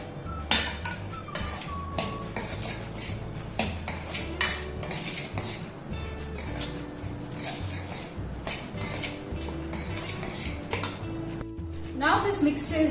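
Paneer with chili flakes and oregano being sautéed in a pan, dominated by frequent metal spatula clinks and scrapes against the pan in an irregular rhythm, close and fairly loud.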